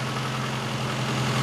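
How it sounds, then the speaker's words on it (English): A 1974 Mini Cooper engine idles steadily with a low, even rumble and a slight exhaust putter, continuous and close with no voices. "The exhaust note kind of has a weird little putt to it."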